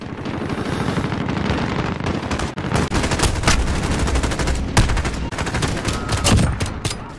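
Rapid automatic gunfire crackles through a Call of Duty Modern Warfare match, dense bursts of close shots and bullet impacts in uneven rhythm, loud and nearly continuous with short pauses.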